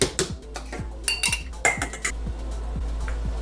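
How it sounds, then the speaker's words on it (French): A spoon mixes sauce in a large bowl for potato nachos with Mexican-style meat, clinking and scraping against the bowl in quick, irregular strokes close by, over a steady low background hum, with no talking. "dans un grand bol, on va venir mélanger notre sauce"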